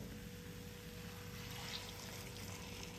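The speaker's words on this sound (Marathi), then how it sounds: "गरम पाणी आपण आता यामध्ये घालणार आहोत" Hot water poured into a pan of drumstick curry, a continuous rushing, bubbling pour mixed with the hiss of the hot pan, steady and close.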